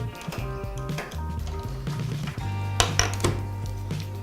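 Screws being unscrewed from the control panel of a washing machine, with a run of metallic clicks, taps and rattles, close and fairly loud, over a low steady hum.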